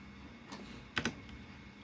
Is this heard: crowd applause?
no